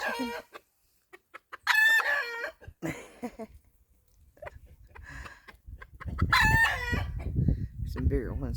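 Small bantam chickens and larger hens cluck in farm pens while a rooster crows loudly twice, nearby and clear, with a person speaking softly between the calls.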